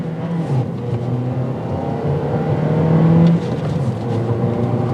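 A 2022 Toyota Corolla with a manual gearbox pulls away under throttle from a stop, its engine note rising steadily and peaking before easing back, heard from inside the car with no talking.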